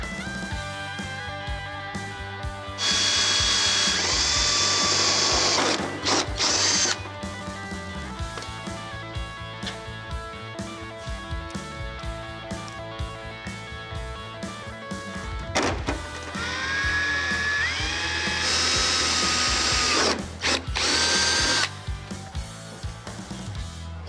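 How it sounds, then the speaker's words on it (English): A power drill whines in two long bursts, motor pitch rising as it bores holes into the metal fender of a 1972 Camaro, with quieter mechanical whirring between. "what I'm gonna do is go ahead and drill some holes"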